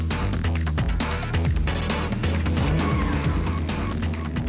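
A big field of supercars at Phakisa rolls out onto the circuit for an extreme supercar race. Dense, loud engine roar from many cars at once, with layered revving and passing sounds that carry steadily throughout.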